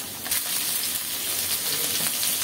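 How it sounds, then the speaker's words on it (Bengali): Onions and chopped green chilies hit hot oil in a home kitchen pan, a steady bright crackling sizzle that swells after the first moment and continues evenly, close and fairly loud. "পেঁয়াজ দিলাম তেলে, কাঁচামরিচ কুচি দিলাম"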